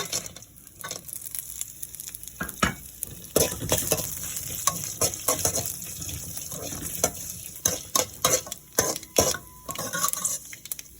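Cashews frying in a pan for upma, crackling under frequent sharp utensil clanks and scrapes that come in irregular bursts.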